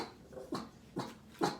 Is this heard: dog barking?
yes